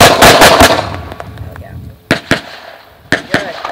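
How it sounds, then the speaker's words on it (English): Two pairs of rapid pistol shots crack loudly at an outdoor shooting range during a speed drill, sharp close bursts separated by a short pause, with a voice shouting commands just before. "present on my command of gun and shoot 2 rounds as fast as you can go"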